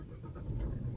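A 2018 Maruti S-Cross Zeta facelift engine starts up, a brief low rumble that swells to a steady idle close by, with no talk.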